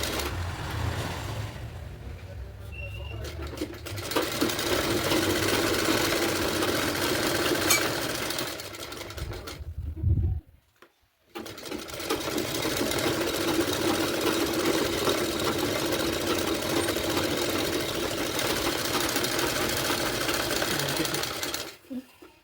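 A sewing machine stitches a blouse in two long, fast runs of steady mechanical whirring separated by a brief pause, with no talking.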